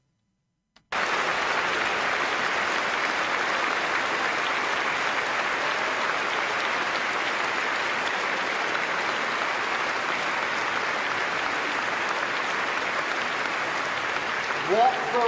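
Sustained applause from a large crowd at the Labour Party conference after the leader's speech, dense and steady for many seconds after a brief silence, with a voice emerging faintly at the very end.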